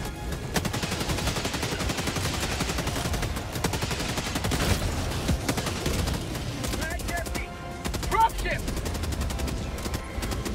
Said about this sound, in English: No, this LMG like crushes them.